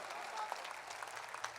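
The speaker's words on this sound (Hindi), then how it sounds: "बढ़िया कविता पर आप ताली बजा रहे हैं" Brief, faint applause from an audience at a live Hindi poetry recital (kavi sammelan), a soft continuous patter of many hands with no voices.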